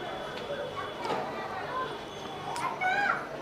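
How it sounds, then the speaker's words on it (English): Children yell and play outside in the background, their distant, faint shouts and high squeals rising now and then under a steady wash of ambient noise. "in the background, you hear the kids yelling because they're having fun"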